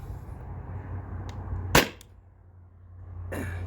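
An air gun fires a 7.2 gram aluminum ball with one sharp, close crack, followed by a fainter impact snap moments later, over a low steady hum in a quiet outdoor setting.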